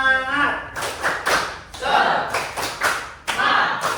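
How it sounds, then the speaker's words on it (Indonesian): A classroom group claps a rhythmic spirit clap during a coding training session, sharp bursts of hand claps and taps in quick patterned groups, fairly close, with voices chanting along. "Tepuk semangat."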